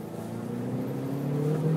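A car pulls away hard on a wet circle-driving practice track with traction control switched off, its engine droning steadily and loudly throughout at close range.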